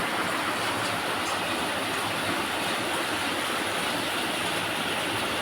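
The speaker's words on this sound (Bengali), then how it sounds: "খুব জোরে বৃষ্টি হচ্ছে" Heavy rain pours down hard outside a house, a dense unbroken roar of water that stays loud and constant without any pause.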